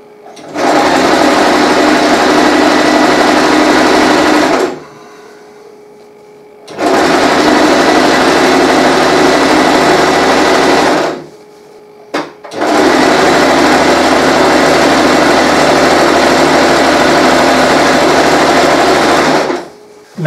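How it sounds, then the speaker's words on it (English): A sewing machine stitches the shoulder straps of a Viking apron dress in three long, steady, loud runs of whirring motor noise, each several seconds long, separated by short pauses. "I like to start apron dresses by sewing the shoulder straps"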